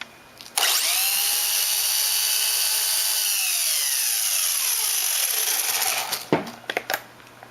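The motor of a Turnigy Monster Beatle 4WD 1/16 RC truck, running on a 3S battery, spins up to a loud, sustained high-pitched whine that holds steady for several seconds, then cuts off, followed by a few clicks and knocks.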